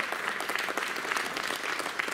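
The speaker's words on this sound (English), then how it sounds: "give yourselves a big round of applause for being smart enough for being here tonight" A crowd at an evening magic show at Six Flags Fright Fest claps and applauds, a short, steady burst of many hands.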